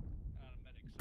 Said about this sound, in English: There are mortars.